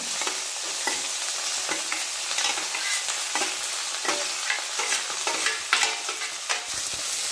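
Onions and capsicum frying in hot refined oil for a homemade pasta, a loud, dense sizzle with repeated stirring scrapes throughout, close and continuous with no voices.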